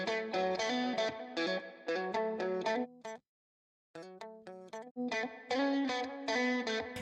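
A short, bouncy, slappy country-style electric guitar lick with echoing delay, reverb and a shimmering chorus effect, repeated in phrases with a brief pause midway.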